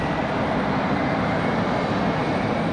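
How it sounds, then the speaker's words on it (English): A CRJ regional jet taxiing at Raleigh-Durham International Airport, a loud, steady broadband engine roar with no break over its short span. "Looks like we got another CRJ taxiing now."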